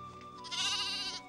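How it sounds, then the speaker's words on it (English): A single goat bleat, wavering and drawn out for about a second, heard close and alone against a quiet background. "Take this little goat, too."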